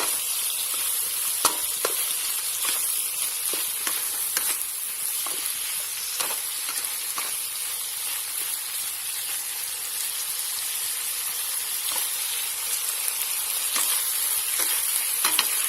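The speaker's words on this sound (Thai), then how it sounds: "พัดให้กุ้ง มันสุกเลยก็โอเค" Shrimp stir-fried with bamboo shoots in a rural home kitchen: continuous loud frying sizzle and hiss, broken by frequent sharp scrapes and clanks of a spatula tossing the food in the pan.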